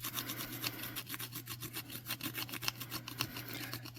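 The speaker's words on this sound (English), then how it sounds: "So I'm going to start by burnishing the bowl." Steady close rubbing and scraping as the bowl of a hand-carved wooden spoon is burnished, a quiet rhythmic friction with fast repeated strokes and no talk.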